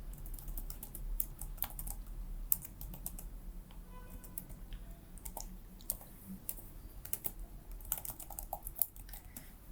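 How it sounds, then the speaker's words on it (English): Fingers type an email address on a computer keyboard in quick, light, uneven bursts of clicks. The sound is quiet and close, over a low steady hum. "I'll write here my email address."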